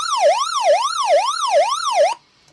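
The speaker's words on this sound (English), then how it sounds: "has kind of a SOS signal that helps people know that you're in need" A WARSUN-DAWN 229 emergency weather radio sounds its SOS alarm: a loud, close electronic siren that sweeps up and down in a steady wailing cycle about five times, then stops abruptly.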